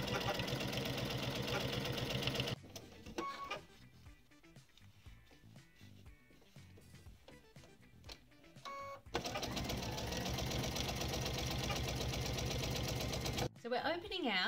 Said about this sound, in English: So once again, we're just sewing them with our 1/4-inch seam allowance. And chaining along too.